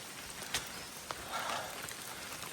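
Rain beginning to fall hard outdoors on a hiking trail, a steady dense hiss of drops with a couple of sharper nearby taps, moderately loud and continuous.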